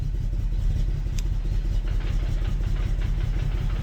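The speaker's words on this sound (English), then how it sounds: "I don't think the car will hold idle" A BMW 1M fitted with a single turbo idles just after its first startup, a steady low engine rumble with a slightly uneven pulse, close and continuous with no talking.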